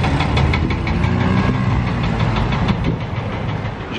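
A Mercedes G63 on a Monaco street gives a loud, steady engine rumble with knocking texture, close by and alone, staying strong throughout before easing slightly near the end.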